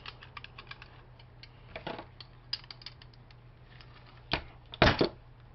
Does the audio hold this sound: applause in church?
no